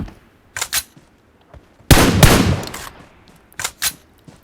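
Gunfire in the PUBG video game on the Livik map: a few short separate bursts, then one louder sustained volley at mid-clip, followed by more brief shots, with no speech over it.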